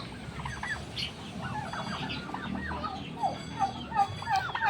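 Turkeys on a small farm gobble repeatedly amid clucking from other fowl, including roosters, several birds calling close and overlapping in an outdoor pen.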